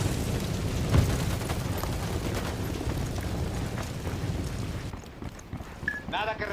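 A deep, rumbling explosion from the video game Ghost Recon Wildlands roars on as a broad, sustained blast with wind-like noise, easing off toward the end.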